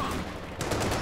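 A tank's main gun firing in a World War II strategy game, one heavy shot landing about halfway through a short stretch of dense battle noise.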